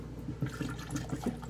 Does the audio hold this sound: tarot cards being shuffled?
no